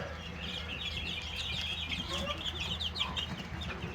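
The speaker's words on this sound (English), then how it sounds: "Chicks are doing well." A brooder of young Cornish Cross broiler chicks, about ten days old, keeps up a dense, continuous chorus of high peeps and chirps over a low steady background hum, close and busy.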